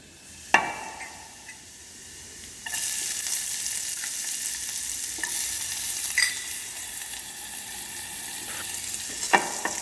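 Onion sautéing in a pan with sweated garlic for pesto minestrone soup: a few utensil clicks, then a steady close sizzle from about three seconds on, broken by occasional stirring scrapes.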